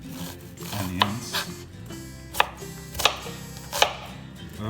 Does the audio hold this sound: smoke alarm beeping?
no